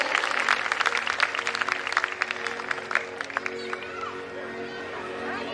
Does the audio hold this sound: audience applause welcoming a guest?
yes